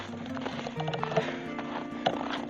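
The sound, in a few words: horses moving and whinnying as they are let out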